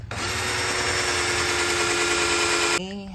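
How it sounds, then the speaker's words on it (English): A power drill bores steadily into metal beneath a Jeep Liberty's bumper, a loud continuous whine held close for nearly three seconds before it cuts off, followed by a brief voice. "hate drilling underneath stuff"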